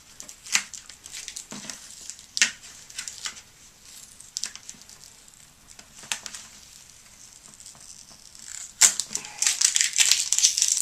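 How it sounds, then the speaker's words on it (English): Stickers are peeled off the outer wrapping of a video game box, close, crackly tearing bursts and crinkles spaced out, growing louder and denser near the end. "Just peel these stickers all the way off."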